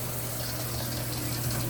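Hot water runs steadily from a shower head in an Econo Lodge hotel bathroom in Sandusky, Ohio, a continuous close hiss and splash with no voices.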